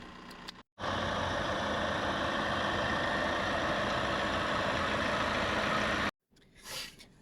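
A van's engine idles after a battery replacement, a steady, close, even rumble that runs for about five seconds between two brief silences.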